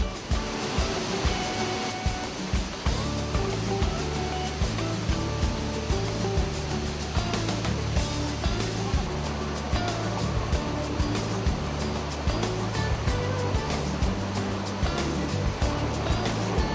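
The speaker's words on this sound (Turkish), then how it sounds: "Bir zamanlar bu şelalenin yüksekliği 6-7 metreymiş." Water from the Karaçay hidden waterfall pours into its deep plunge pool, making a dense, continuous roar that stays loud and even with no voices.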